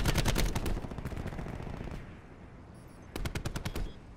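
Rapid SMG bursts in the Call of Duty Black Ops 4 beta, a dense rattling stream of shots for about two seconds, then a short lull before another crisp burst near the end.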